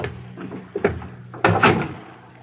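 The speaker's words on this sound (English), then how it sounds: "Close the door." Sound effect of a door being shut in an old radio drama: brief shuffling and knocks, then a firm thud as the door closes, with no talking over it.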